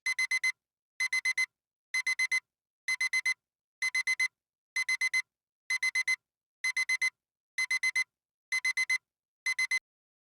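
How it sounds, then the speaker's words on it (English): An alarm clock beeps in regular bursts of four quick tones, about one burst per second with short silent gaps, steady and clear with nothing else heard. "The alarm clock beeped."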